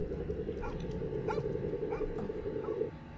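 Dog barking in a home invasion video game, a few short yips over a steady droning game soundtrack, mid-distance and fairly quiet.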